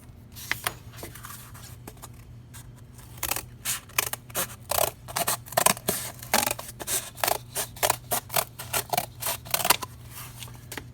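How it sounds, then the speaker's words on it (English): Scissors snip through cardboard in a run of crisp, repeated cuts, close and fairly loud, starting sparse and then quickening into a steady rhythm. "I'm just going to use a pair of scissors to cut along that line."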